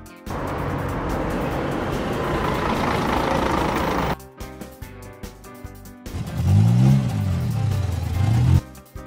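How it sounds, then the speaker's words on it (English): Animated flatbed truck on the move: a loud steady engine rumble, a short break of clunks, then revving swells that rise and fall. "Flatbed truck."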